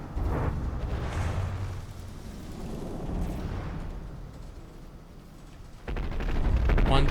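Big-iron battleship guns firing in a naval video game tournament, rumbling booms and rolling low gunfire that swell and fade, ending in a louder heavy barrage, with a voice talking over parts of it.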